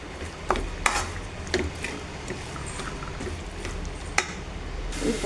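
Chicken with greens stems is stirred in a pan, with a few sharp scraping knocks of a utensil over a soft, steady background, fairly quiet.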